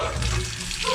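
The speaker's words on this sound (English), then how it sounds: "Sink. There we go with brown water. Come on, brown water." A sink tap runs brown water in a Dumaguete, Philippines house rental, a steady, close rush of water splashing into the basin.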